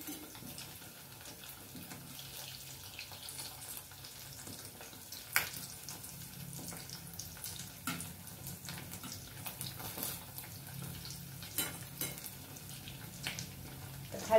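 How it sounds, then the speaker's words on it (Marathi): A farsan snack frying in hot oil after being flipped to its other side, giving a steady low crackling sizzle with scattered small pops and bubbling throughout. "खालची साइड पण छान तळून घ्यायची मस्त"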